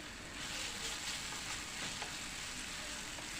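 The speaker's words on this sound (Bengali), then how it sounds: "একটু নাড়াচাড়া করে নিচ্ছি" Chopped green chilli and grated ginger fry in a pan for a Bengali kakrol recipe, making a continuous close sizzle with soft stirring scrapes and no talking.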